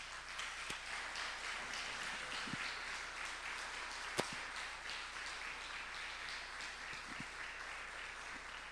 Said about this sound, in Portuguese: Você quer aplaudir a Jesus Cristo?